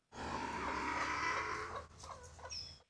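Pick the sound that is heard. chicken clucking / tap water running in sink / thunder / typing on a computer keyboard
chicken clucking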